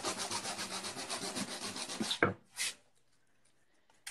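Hand sanding on a surface during a painting session: steady, rhythmic scratchy rubbing strokes for about two seconds, then a sharp scrape and one short brush, leaving near silence.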